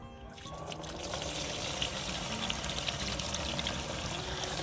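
Liquid, a natural homemade plant spray against leaf mould for tomatoes, pours steadily through a second strainer, a continuous close splashing trickle with no talk.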